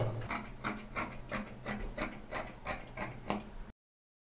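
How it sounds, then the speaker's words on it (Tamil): Rhythmic crisp snips of scissors cutting cloth for a school uniform pinafore, about nine evenly spaced cuts, close and clear with no talking, ending abruptly. "ஸோ இப்போ நான் வந்து விட்டு கட் பண்ணிக்கிறேன்"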